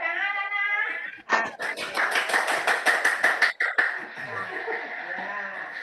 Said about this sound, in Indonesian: Tepuk tangan, anak.